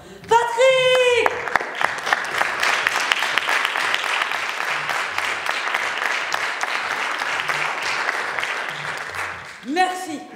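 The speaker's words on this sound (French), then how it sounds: "J'aimerais que tous et toutes vous applaudissiez Patrick de là-haut." Audience applause in tribute to Patrick Dewaere, a sustained wash of many hands clapping for several seconds. A single voice calls out loudly at the start and again near the end, over the crowd.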